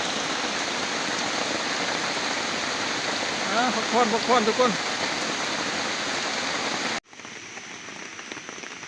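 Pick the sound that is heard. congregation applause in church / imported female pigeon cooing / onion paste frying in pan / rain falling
rain falling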